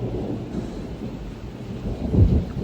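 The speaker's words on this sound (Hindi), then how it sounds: "ये देख रहे हो, लाइव ओले, जिंदा ओले गिर रहे हैं।" Hail pelting down outside during a storm in the hills, a dense, steady patter of falling ice that swells slightly toward the end, with no voices.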